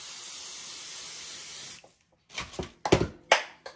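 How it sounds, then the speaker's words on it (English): A sustained spray hiss lasting almost two seconds, then a pause followed by several short bumps and clatters nearby. "and spray that down."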